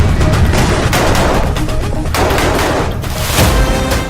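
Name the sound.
gunfire and explosions on the Rafah war front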